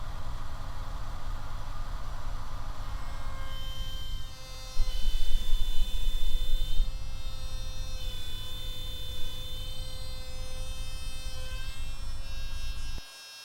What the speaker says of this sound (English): Now we guide the router slowly through the straight fingers and cut the tails.